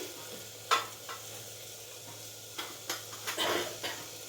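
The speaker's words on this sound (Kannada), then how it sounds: "ಸಾಸಿವೆ ಕರಿಬೇವು ಸೊಪ್ಪು ಹಾಕಾಗಿದೆ." Mustard seeds and curry leaves crackle in hot oil for a tempering in a quick fenugreek-leaf dal, with a few sharp bursts and spoon-on-pan clinks over a soft, steady frying hiss.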